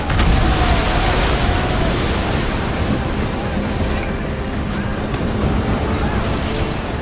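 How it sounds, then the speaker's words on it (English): Strong wind and rushing waves against a sailing ship in Assassin's Creed Odyssey, a loud, constant broadband roar of spray and gusts with no pause, faint voices buried beneath it. "Feel that wind!"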